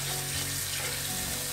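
Rice is rinsed under cold running tap water in a kitchen, a steady hiss of flowing, splashing water, close and continuous without talk.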